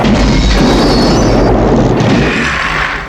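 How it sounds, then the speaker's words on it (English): Stacked fuel blows up inside an underwater cave in a massive, sustained roaring blast that fills the whole clip with dense rumble before it begins to fade at the end. "they found stacked fuel and decisively blew it up"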